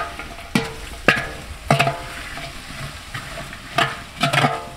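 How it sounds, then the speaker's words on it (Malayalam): Small onions being sautéed with salt in a pan for an Indian-style buffalo bone marrow dish: a soft continuous sizzle broken by several sharp scraping stirs of a spoon against the pan, with no talking. "ഇനി നമുക്ക് ഇതങ്ങോട്ട് വഴറ്റി എടുക്കാം"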